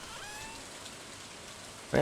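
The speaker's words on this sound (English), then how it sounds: "it's a rainy day, which is, you know, it's nice, but everything's self-watered anyways" Steady rain falls on a rainy day in a video game, a soft continuous hiss throughout, with a voice cutting in right at the end.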